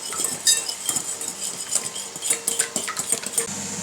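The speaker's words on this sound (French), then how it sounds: "Ensuite, vous touillez jusqu'à ce que votre mélange soit blanc." Brownie batter of chocolate and nuts being stirred in a bowl, with dense, busy clinks and scrapes of a utensil against the bowl, close and steady throughout, with no talk.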